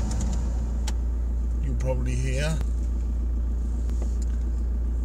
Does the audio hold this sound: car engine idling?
yes